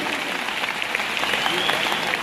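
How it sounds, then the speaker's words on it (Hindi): Seminar audience applauding warmly for company chairmen, a dense, loud burst of many hands clapping steadily close by, with faint crowd voices and a voice briefly audible underneath. "मैं चाहता हूं एक पूरे दिल से उनके लिए ताली होनी चाहिए"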